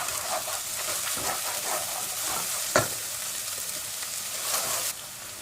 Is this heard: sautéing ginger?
yes